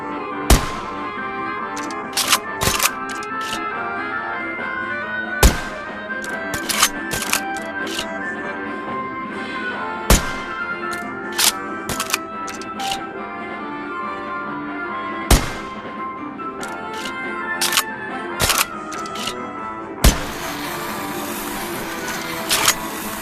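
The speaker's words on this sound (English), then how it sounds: "Light up those fireworks, sit back and enjoy the show." Fireworks in a VR celebration game burst in a steady series of sharp cracking bangs, roughly every few seconds, with crackling tails and a dense sizzling shower of sparks near the end, loud against a low ambient bed.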